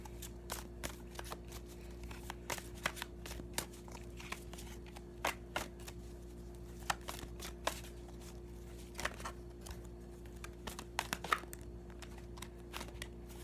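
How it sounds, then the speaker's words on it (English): Quiet tarot card shuffling, with repeated soft riffling bursts and crisp taps at an uneven pace, close by, with no talking. "I'm having a hard time shuffling."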